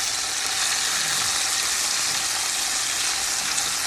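A steak sizzles in a pan just after being flipped, giving a dense, constant hiss and crackle that stays loud and even throughout, close by and with no talking.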